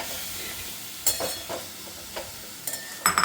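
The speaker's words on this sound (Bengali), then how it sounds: "এটাকে একটু ভাজা ভাজা করে নামিয়ে নেবো" Malabar spinach and pumpkin greens frying in a home kitchen pan with a steady sizzle, broken by several sharp scraping stirs of a spatula, close and moderately loud.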